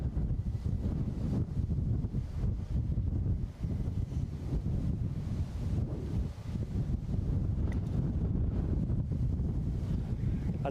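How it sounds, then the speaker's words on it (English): Strong gusting wind buffets the microphone at Edinburgh airport, a loud, continuous low roar that swells and dips over about ten seconds with no talk. "Hear that wind?"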